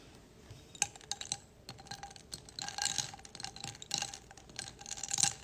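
Close-up clinks and stirring clatter from a glass as a drink is mixed, with irregular sharp taps and a spoon rattling against it.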